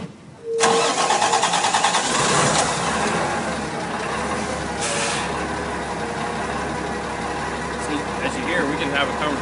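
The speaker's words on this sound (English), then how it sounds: "I just want to crank it up because these things are 10 times quieter than a diesel." A Freightliner M2 tractor running on compressed natural gas cranks and fires up, then settles into a steady, fairly quiet idle that continues throughout.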